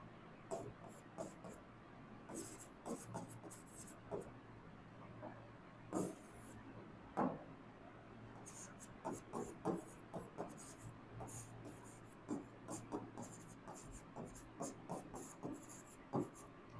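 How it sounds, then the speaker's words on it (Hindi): Marker or chalk writing on a board during a physics lesson, with irregular scratchy strokes and taps in quick bursts, fairly quiet and close, with no talking over it. "इसको लिख दे रहा हूं।"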